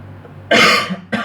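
A single sharp, close cough followed a moment later by a shorter second cough, with a faint hum beforehand.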